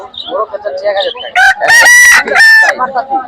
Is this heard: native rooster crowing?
yes